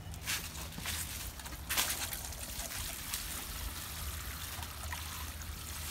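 Water pours onto the soil of a potted banana plant, a steady close trickling and splashing with a few louder surges early on, continuing without speech.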